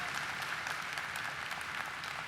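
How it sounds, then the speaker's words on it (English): A large crowd at the VFW National Convention gives Jon Stewart a steady round of applause, dense even clapping throughout without voices. "Everybody, let's give John a big round of applause"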